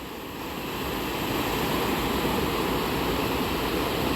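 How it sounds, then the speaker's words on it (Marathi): Rushing water of a mountain river at Manikaran Sahib roars steadily, swelling slightly at the start and then holding a constant, close, full flow. "ह्या पाण्याचा आवाज बघू शकता, खडखडणारा, किती म्हणजे कानाला तृप्त करत आहे"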